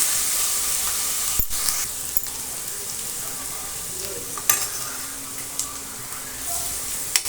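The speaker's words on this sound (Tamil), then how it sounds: "இப்போ இஞ்சி பூண்டு நல்லா பச்சை வாசனை போகிற வரைக்கும் அதை நம்ம நல்லா வதக்கி விட்டுக்கலாம்." Ginger garlic paste sautés in a hot pan for Tamil egg kulambu, a steady close sizzle and hiss broken by a few sharp clicks of a spatula against the pan.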